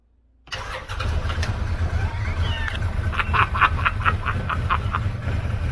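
A 2013 Arctic Cat Wildcat 1000 H.O. engine cranks and catches abruptly, then idles loud and close with a rough steady rumble and some sharp rattling pulses.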